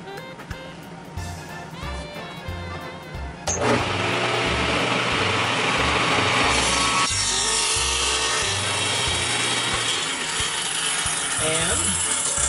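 A power saw cuts a quarter-inch slot in reclaimed wood, starting with a quieter whir and then switching to a loud, steady, continuous grinding whine close by.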